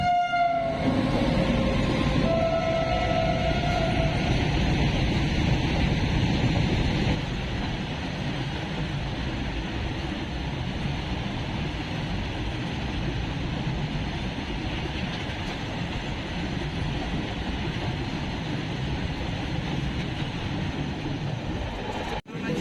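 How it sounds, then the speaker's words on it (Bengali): A large freight train speeds through Bankura railway station, its horn blaring at the start over a loud, steady roar and rumble of wagons that keeps going and eases only slightly after the first few seconds. "আর দেখতে দেখতে একটি বড় সড়ো মালগাড়ি গতিবেগের সাথে চলে গেল।"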